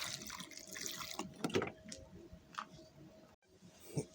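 Water runs and splashes over fresh noni fruit being washed, a steady faucet-like flow with a few louder splashes and sloshes, close by and alone.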